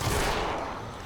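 A Dragon's Breath shotgun fires once in the video game Fortnite: Save the World, a single moderately loud blast that fades into a washy decay with no other sound around it.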